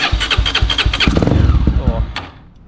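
A 2008 Honda Twister motorcycle engine cranks in quick rhythmic pulses after a carburetor adjustment, then catches and fires up, loud and close.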